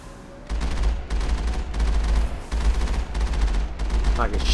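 Heavy bursts of automatic gunfire from the Mass Effect video game, fired from the Mako vehicle in rapid repeated volleys with short gaps, loud and dense, and a voice briefly heard near the end.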